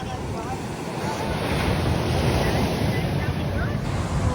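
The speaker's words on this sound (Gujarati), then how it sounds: "દરિયા કિનારાનું વાતાવરણ કેવું તમને બતાવી દઈએ ખાલી લો મોજા કેવા આવા" Sea waves roll onto the shore at Madhavpur beach, a steady roaring surf that grows slightly louder midway, with strong wind buffeting the microphone throughout.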